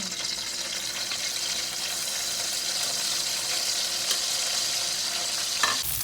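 Dried fish fries in an oiled pan at close range, a constant bright sizzle and crackle with occasional stirring clatter, steady and unbroken with no talking.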